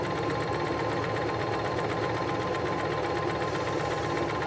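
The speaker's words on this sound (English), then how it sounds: "Then I'll lower the presser foot and just keep on sewing." A Singer 1234 sewing machine runs steadily while stitching in a zipper, giving a continuous rapid mechanical whir and needle chatter that stays close and even throughout.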